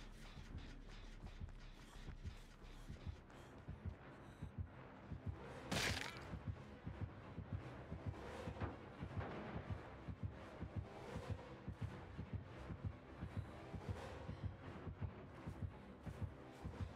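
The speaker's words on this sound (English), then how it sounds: "Heartbeat near me." Dead by Daylight killer heartbeat in a match, a steady low thudding pulse repeating throughout under faint game ambience, with a brief louder burst of noise near the middle.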